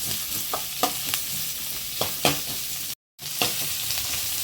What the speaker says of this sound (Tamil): இந்த வெங்காயத்தை வந்து நல்லா கோல்டன் கலராக வதக்கி எடுத்துக்கோங்க